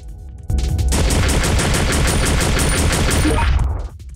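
Rapid, loud gunfire in Resident Evil: Survivor on PlayStation as a player shoots at Mr. X, a sustained burst of automatic shots lasting about three seconds before cutting off, with no voices.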